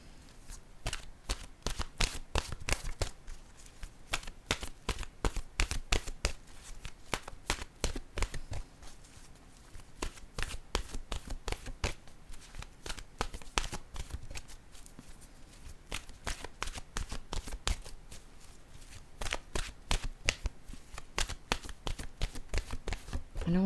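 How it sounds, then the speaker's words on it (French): An oracle card deck shuffled by hand at close range, a long dense run of rapid papery riffles and slaps with brief pauses as cards are drawn, steady and fairly loud throughout. "je vais piger une dernière carte de mon jeu, mon oracle de l'âme intuitive"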